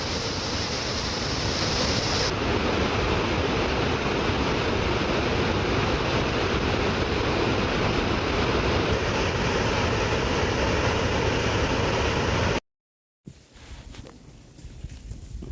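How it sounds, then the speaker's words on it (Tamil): Fast floodwater on the river at Uthamapalayam, Theni, rushes under a bridge in a loud, dense, unbroken roar, close and constant, with a brief gap near the end and no talk. "ஃபுல் ஸ்பீடில் வருதுங்க தண்ணி."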